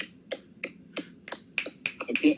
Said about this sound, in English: I just have to clap for that